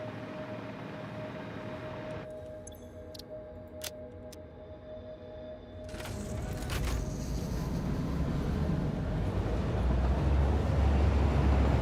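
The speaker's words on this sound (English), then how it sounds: "I'm just gonna try manually driving the train and see what happens." A train is driven manually in the video game Satisfactory. Quiet mechanical ticking and clicks give way to a rising, rumbling rail roar that grows louder and fuller toward the end, with no talking.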